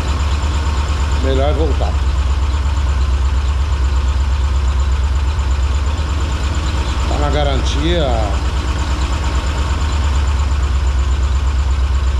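A vehicle engine idles with a steady low drone throughout while people talk over it.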